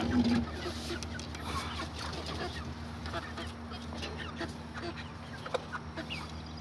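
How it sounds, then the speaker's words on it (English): Hens cluck softly and intermittently in a quiet space, with a low steady hum in the background and a few faint rustles. "These girls are the new hens."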